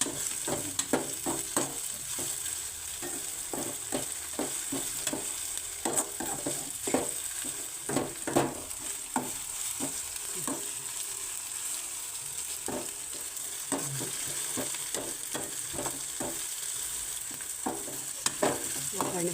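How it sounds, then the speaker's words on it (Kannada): Tomato frying in a pan, with a constant sizzle broken by frequent sharp scraping strokes as a spatula stirs it in a loose, irregular rhythm, close and fairly loud. "ಆಮೇಲೆ ಟೊಮೆಟೊ ಹೆಚ್ಚು ಫ್ರೈ ಆಗಲಿ."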